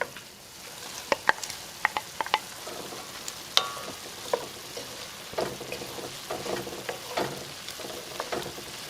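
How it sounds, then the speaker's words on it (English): Green onions added to a hot pot for beef stew, giving a steady frying sizzle close by with scattered sharp clicks and knocks of a utensil against the pot. "Now I'm going to raise my heat up a little bit, and I'm going to add my green onions."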